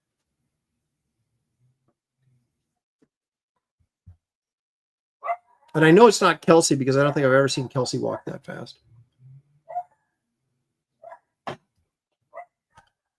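A dog barks indoors in a few short, separate yaps, fairly close, while someone speaks in the middle of the stretch.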